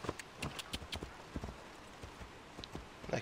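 Horse hooves clip-clop at a walking pace in Assassin's Creed Odyssey, a steady series of fairly close, moderately soft hoof strikes with no talk over them.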